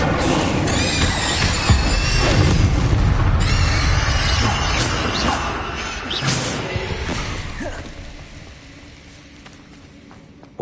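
Fiery and explosive spell effects from Hogwarts Legacy, Incendio and Confringo, roar as dense, loud crackling blasts that fill the clip and gradually fade toward the end.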